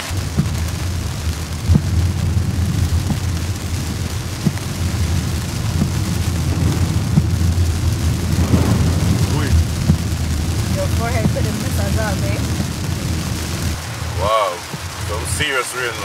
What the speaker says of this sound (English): Serious rain, man.